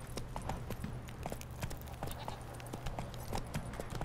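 Horse hooves clip-clop steadily in The Witcher 3: Wild Hunt, a quick even rhythm of muffled hoofbeats over a low rumbling background, moderately quiet.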